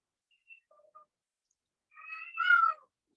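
A domestic cat gives a few faint, short chirps, then one loud, drawn-out meow rising and falling in the second half, close to the listener with no one talking.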